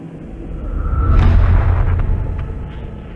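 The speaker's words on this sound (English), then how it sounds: "the world watched in horror as the Space Shuttle Challenger broke apart" Space Shuttle Challenger breaking apart after liftoff, a loud sustained low rumbling roar that swells and then slowly fades, with no voices over it.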